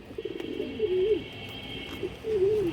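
A pigeon with striking eyes, a khaki-coloured hen, coos softly nearby. It gives two short bouts of low, wavering cooing over a faint steady background hum.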